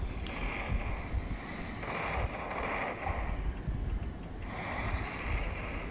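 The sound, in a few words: boat on waves in Roblox video game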